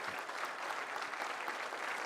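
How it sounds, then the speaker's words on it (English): Steady applause from a crowd, dense clapping sustained evenly throughout with no talking. "the Canadians deserve an extra round of applause"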